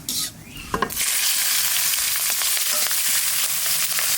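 Cumin and a few green chillies drop into hot oil, setting off a sudden loud sizzle that then holds as a steady crackling hiss, heard up close with no talking.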